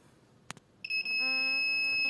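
A sharp click, then a few quick electronic beeps lead into a loud, continuous high-pitched Arduino buzzer tone, triggered by an HC-SR04 distance sensor, that holds steadily.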